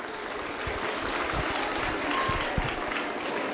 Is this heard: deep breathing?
no